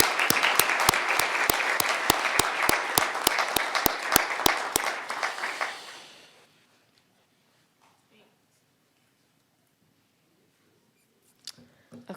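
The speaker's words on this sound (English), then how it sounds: "giving him a big round of applause" An audience applauds at a city staff awards event, with steady clapping and rapid repeated sharp claps that fade out after several seconds into near silence.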